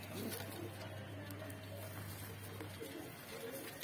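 Border pigeons, a pen of eight birds held for sale at a market, coo softly and steadily at a distance over a continuous low hum and a murmur of background voices.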